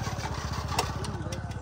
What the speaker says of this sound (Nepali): म अब बाइक स्टार्ट हान्छु